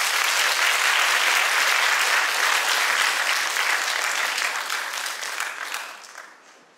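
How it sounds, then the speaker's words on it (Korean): An audience at a live traditional pansori concert claps loudly and steadily, a thick wash of many hands that sustains for several seconds and then gradually fades out. "박수로 청해드릴게요."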